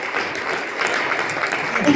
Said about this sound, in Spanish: Denle palmas a él.